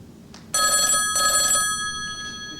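Bright electronic telephone bell ringing in two loud bursts with a short gap, followed by a fainter third ring, in a quiet room.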